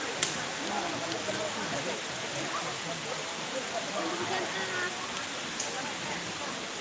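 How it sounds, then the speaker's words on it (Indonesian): A steady wash of rain pattering on surfaces, an even hiss with occasional sharper drops; a voice can be heard faintly under it. "wah ini hujan."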